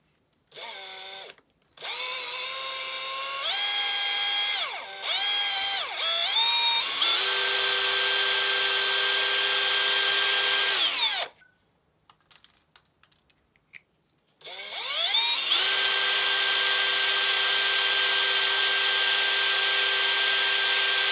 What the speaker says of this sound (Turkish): Lehimi ince bu uçla delmemiz daha iyi olur.